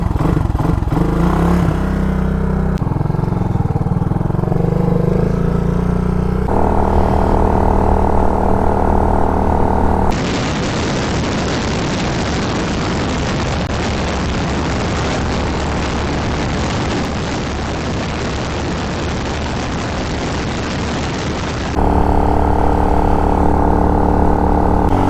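An RPS Condor CG250 motorcycle running on dirt trails on a hot day, its engine droning steadily and close for the whole stretch, with the pitch and tone shifting in sections as the rider changes speed.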